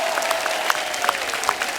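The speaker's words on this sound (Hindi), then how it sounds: "इनके लिए जोरदार तालियां" Studio audience applauding on a Hindi comedy talk show set, a steady dense wash of clapping lasting about two seconds with a few sharper individual claps standing out, fairly close and continuous throughout.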